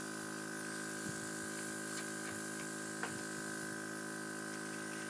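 A Luminess EPIC airbrush sprays makeup in a steady, close hiss that runs without a break, with faint clicks on top and no talking.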